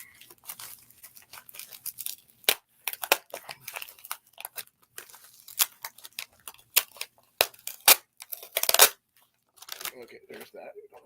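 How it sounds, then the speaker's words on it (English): Scissors snip and tear through a heavily taped cardboard package in a series of sharp, close cuts and crinkles, with short pauses between bursts and a voice talking intermittently. "I'm probably going to end up having to get some scissors or something"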